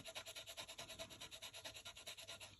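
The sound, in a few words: Tombow Mono Sand Eraser rubbing on paper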